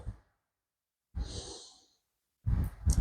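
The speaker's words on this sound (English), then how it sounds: "taking a couple more deep breaths here" A seated chair-yoga participant takes a slow, deep breath, a soft, close, airy inhale followed by a long exhale, with silence between and a louder breath at the end.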